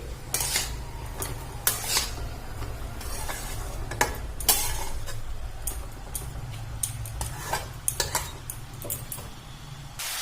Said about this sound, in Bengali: একটু ভালো করে নাড়াচাড়া করে ভেজে নেব